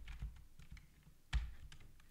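Faint keystrokes on a computer keyboard come in a few soft, irregular clicks, with one louder tap partway through and another at the end.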